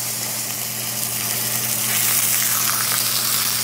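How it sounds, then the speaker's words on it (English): Seasoned meat searing in a hot cast iron pan, a loud close continuous sizzle with a broad crackling hiss that swells slightly partway through, over a low steady hum. "And these guys are just gonna go right down in the pan."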